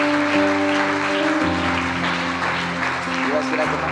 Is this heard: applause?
yes